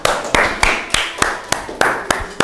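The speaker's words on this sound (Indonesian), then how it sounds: "Tepuk tangan dong." Sharp, evenly spaced claps, about eight of them in a slow steady rhythm, close and loud, from an audience in a classroom microteaching session.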